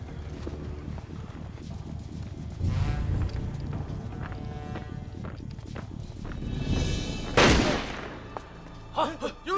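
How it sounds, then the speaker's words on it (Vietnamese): Gunfire in a Vietnamese drama set in a mountain area: a sharp, loud broadband burst rings out near the end, with a few smaller cracks after it, over a steady background of hoofbeat-like clopping and rustling footsteps. "Có người nổ súng"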